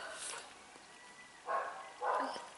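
A dog barks twice outdoors at a distance, two short muffled woofs about half a second apart, heard faintly against a quiet indoor room.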